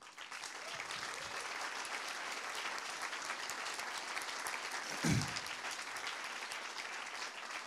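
An audience at an evening book launch gives sustained, even applause from start to finish, with one brief louder thump near the end.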